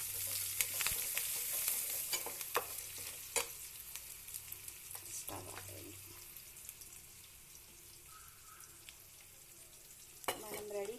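A spoon stirs a turmeric-dusted tempering frying in a pan for buttermilk curry, giving soft scraping and a faint sizzle, with occasional sharp clinks and a louder knock near the end, no voices.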